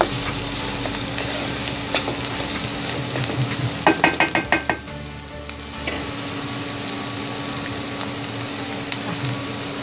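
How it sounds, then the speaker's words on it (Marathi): Finely chopped onion sizzles and fries steadily in a pan for prawn masala, with a brief burst of stirring clatter from the spoon against the pan midway, no voices present. "बारीक चॉप करून घेतलेला कांदा घालूया. कांदाही आपल्याला असा अगदी लालसर असा भाजून घ्यायचा आहे चांगला"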